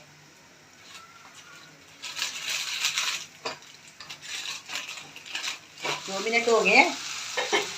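Mixed vegetables sizzle and crackle as they fry in hot ghee, a steady close hiss with stirring scrapes, while someone speaks briefly in Hindi at the end.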